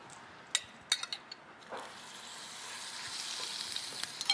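Butter melts into olive oil in a skillet with a soft, steady sizzle. A few faint clinks ring out early, then a quiet, even frying hiss builds and fills the rest.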